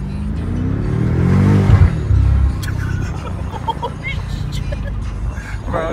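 A 2018 BMW F90 M5 V8 revs and burbles close by, a deep swelling roar that peaks and then drops to a low rumble with crackles, while people talk over it.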